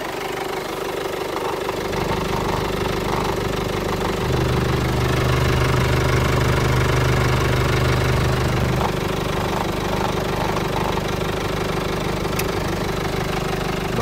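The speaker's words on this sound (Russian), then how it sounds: "Мотор работает отлично." A 2009 Hyundai Tucson with a 2-litre diesel engine idles with a steady, even hum and a low throb that holds for the whole stretch, with no talking.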